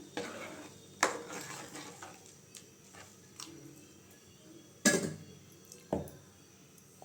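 A tomato curry (thakkali kulambu) is stirred in a pot with a utensil, giving soft scraping strokes and a few sharper clinks against the metal at irregular intervals, quiet and close with no talking.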